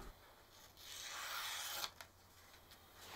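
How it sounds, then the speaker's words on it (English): Forged bearded axe edge stropped on a piece of leather coated with polishing compound, a soft, quiet rubbing swell lasting about a second with a couple of faint scuffs afterward. "It's now time to strop the edge, and I simply do that by first applying some polishing compound on a piece of leather."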